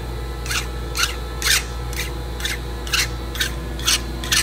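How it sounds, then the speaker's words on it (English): Metal file rasping casting flash off the cast metal parts of a Kibler Woodsrunner muzzleloader rifle kit: nine close, even strokes at roughly two per second, each a short bright scrape. "So I'm just filing off the flash."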